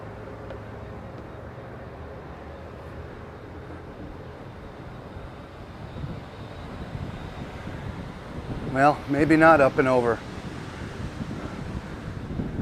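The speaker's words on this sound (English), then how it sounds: "I know it's a bit windy and I apologize." Strong wind buffets the microphone throughout on the open sports deck of the Emerald Princess cruise ship, a steady roaring rush, while someone speaks briefly over it near the end.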